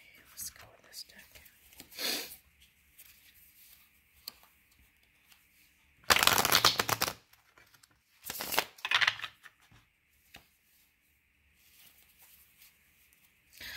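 A deck of cards is shuffled in short, crisp riffling bursts, with soft rustles and near-silent gaps between them, heard up close in a quiet room.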